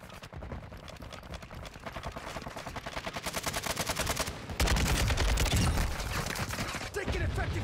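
Rapid automatic gunfire in a military shooter video game, a dense machine-gun rattle that swells louder midway into heavier bursts, with faint voices under the shooting.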